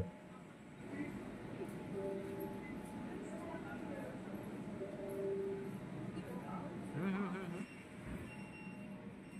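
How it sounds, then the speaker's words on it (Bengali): A Kolkata metro train pulls out of an underground station in a steady, moderately loud rumble with faint wheel squeal and some fluctuation toward the end, with soft distant voices mixed in. "এবার এই মেট্রোটি ছেড়ে চলে যাবে"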